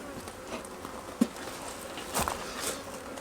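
Honeybees buzz softly around an open hive during a weekly inspection, a steady low hum with a few brief knocks and rustles of handling, no talking.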